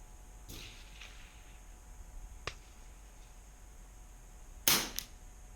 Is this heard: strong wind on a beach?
no